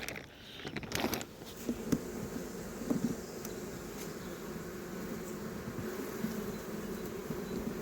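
Honey bees from early-spring hive colonies hum in a dense, steady buzz, with a few louder bees passing near, alongside some clicks and handling sounds and no talking.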